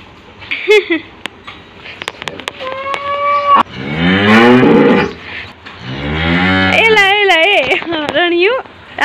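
A cow on a Gujarati dairy farm moos several times, loud and close, with long drawn-out calls between shorter ones, while a person talks nearby.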